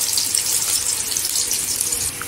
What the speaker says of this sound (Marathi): कढीपत्ता पण स्वच्छ धुवून घ्यायचा